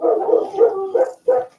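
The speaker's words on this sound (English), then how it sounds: "What are they barking at?" Dogs bark outside in a rapid series of sharp, loud woofs and yips, several barks in quick succession with a short pause before a final bark.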